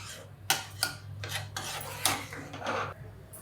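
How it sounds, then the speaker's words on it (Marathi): A pan of puran poli filling is stirred over low gas, with a spoon scraping and clinking against the metal at irregular intervals, moderately close and fairly soft, with no talking. "सारखं हलवत राहायचं अधूनमधून, कमी गॅसवरच परतून घ्यायचं"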